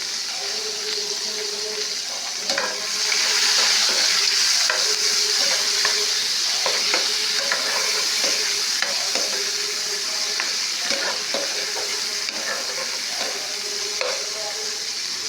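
Chopped onions fry in hot oil for a bottle gourd curry, a steady loud sizzle across the whole clip with repeated scraping stirs, and no voices.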